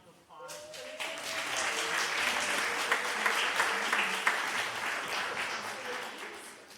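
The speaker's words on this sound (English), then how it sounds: "Can we give a round of applause for the kids?" Applause from an audience for children helping build a space at a guest-speaker event, breaking out suddenly and holding as a steady, dense clatter of clapping, with some voices mixed in.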